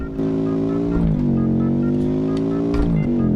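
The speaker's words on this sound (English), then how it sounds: "That is a fruity engine sound." Custom tiny hatchback in a racing video game revving hard on a drag strip, a loud buzzy engine note rising in pitch, dipping at a gear change and climbing again, alone without talk.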